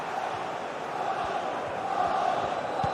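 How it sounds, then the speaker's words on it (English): A stadium crowd roars steadily in a football video game as a set piece is about to be taken, a dense, continuous swell of cheering that grows slightly louder toward the end. "Well, just listen to the crowd."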